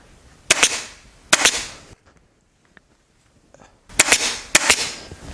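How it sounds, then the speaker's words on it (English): A staple gun fires into upholstery fabric pulled over an armchair's arm, giving sharp, loud snapping shots in quick pairs, with a quiet pause before the last few. "So I'm just going to staple that off there."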